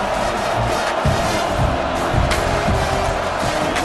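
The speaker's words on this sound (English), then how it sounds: "this crowd coming to life here, trying to help the defense get a stop" A football stadium crowd at Ohio State vs Michigan roars steadily to back the defense, a dense, loud wall of cheering with scattered shouts and swells, distant and continuous throughout.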